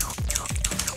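Quick keystrokes on a computer keyboard, a short run of light clicks and taps, close and fairly soft, with no voice.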